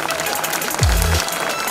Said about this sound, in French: on va commencer à applaudir bien fort les gagnants de ce raid, Durin Nicolas et de l'Épine Romaric